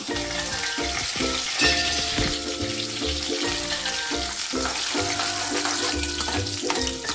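Oil sizzles steadily in a pan as a tempering with curry leaves and crushed shallots fries for an okra dish, with a constant crackling hiss; a low tonal hum underneath and occasional stirring sounds.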